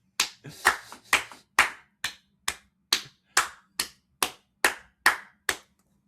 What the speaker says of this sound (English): I was waiting for you to start talking, that's why I kept clapping.